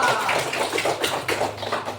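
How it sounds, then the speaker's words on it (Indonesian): Pupils in an Indonesian religious studies class clap together, a close, busy flurry of hand claps rising and falling over a couple of seconds with faint voices underneath. "Tepuk tangan kita."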